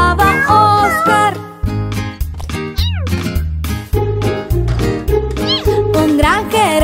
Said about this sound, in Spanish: Un granjero tenía un gato y se llamaba Oscar.